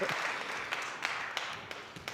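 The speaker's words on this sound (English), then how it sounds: "The crowd certainly trying to get behind Diego Elias here" Spectators at the Windy City Open 2020 squash quarter-finals applaud and cheer for Diego Elias, a soft, distant wash of crowd noise with a few sharper claps scattered through it.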